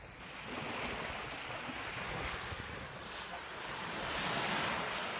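Ocean surf rolls steadily onto a beach at night at Cape May, a continuous broadband wash with wind rumbling against the microphone, fairly close and unbroken throughout.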